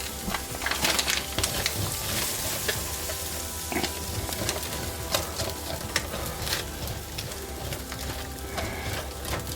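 Toast sandwich flipped in a pan and sizzling steadily, a dense crackling frying sound with scattered pops, close and fairly quiet throughout.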